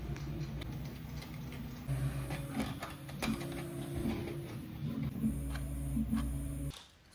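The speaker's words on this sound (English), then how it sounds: "favorite 3D printed puzzles while I print a fourth" A 3D printer printing a puzzle piece hums and whirs quietly in a steady mechanical drone, with small clicks and ticks as the head moves, for about seven seconds before it drops away.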